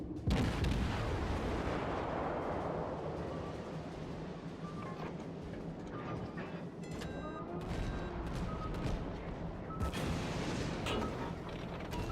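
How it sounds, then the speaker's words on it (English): Naval gunfire from a burning Kuma cruiser in World of Warships as it trades shells with an enemy cruiser, heavy booms rolling under a constant low rumble of sea and engines, with scattered sharper blasts near the end. "me and the enemy cruiser continue to stubbornly shell each other"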